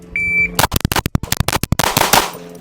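A shot timer beep, then ten rapid .22LR pistol shots from a Ruger Mark II in a quick, loud, evenly spaced string, ending abruptly.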